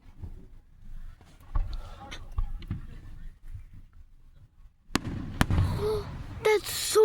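Fireworks pop and crackle at a distance at first, followed by several sharp, louder bangs and crackling bursts near the end, with people talking over them.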